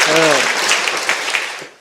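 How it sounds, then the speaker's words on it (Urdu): Applause greets participant A after a correct answer at an Islamic quiz competition semi-final, a dense clatter of clapping hands that holds steady, with a brief voice near the start, then fades out. "تالیاں بجا دیں پارٹیسپینٹ اے کے لیے"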